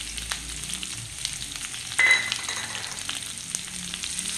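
Dried red chillies, curry leaves, ginger and garlic sizzle and fry steadily in a pan for a Kerala-style fish curry, a close, continuous crackle with a brief louder burst partway through.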